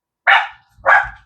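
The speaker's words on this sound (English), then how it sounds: "Sorry, my dogs are barking again." Two loud, sharp dog barks ring out close by, a short gap between them, with no talk over them.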